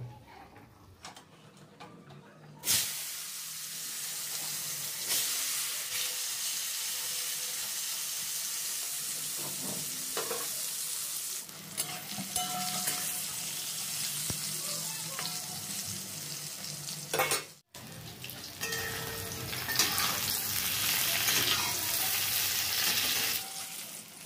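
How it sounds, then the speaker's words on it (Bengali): Brinjal (eggplant) frying in a pan of oil, a steady broadband sizzle starting abruptly after a quiet opening and continuing loudly, with a brief dropout near the end before the crackle resumes; no voices. "প্রথমে বেগুনটা ভেজে নেব।"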